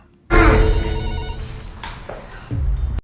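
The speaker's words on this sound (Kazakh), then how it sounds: "өмірінде алғаш рет кеңсе телефоны шырылдайды" Office telephone ringing in a burst, loud and close with a bright metallic bell tone, pausing briefly before a second ring starts near the end.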